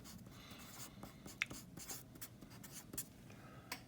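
Pen or marker writing out a weak acid pH chemistry problem, soft scratchy strokes and taps in a quiet irregular rhythm, close and faint.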